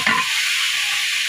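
Hot oil sizzles loudly and steadily in a wok for cooking fish, a dense continuous hiss that flares at the start and then holds even and close throughout.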